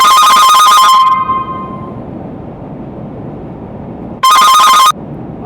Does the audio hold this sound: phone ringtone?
yes